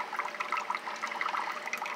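Water trickles steadily from a small indoor pond water feature in a home office, a continuous close, bubbling splash with no voices.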